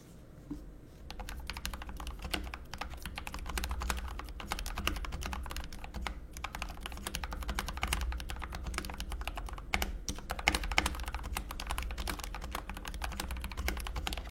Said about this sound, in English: let me show you the typing test